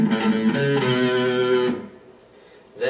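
Electric guitar with an effects-laden, slightly distorted tone plays the King of the Hill theme as a short sequence of plucked notes, ringing for under two seconds before fading into near silence, then a final note begins.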